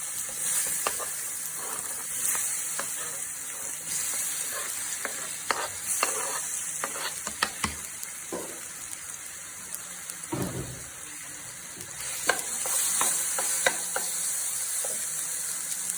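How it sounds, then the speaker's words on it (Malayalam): Sliced banana frying in hot ghee for a Kerala banana snack, a steady bright sizzle with scattered crackles and pops and occasional stirring scrapes throughout, close and fairly loud with no talking. "ഈ നെയ്യിലേക്ക് കഷ്ണം ആക്കിയ പഴം ഇട്ട് കൊടുക്കുക"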